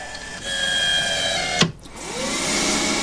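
Small CNC lathe turning a thread blank at 1700 RPM for an old BSA, a steady whining machine tone with faint cutting hiss, then a sharp scrape and a brief dip before the hum returns.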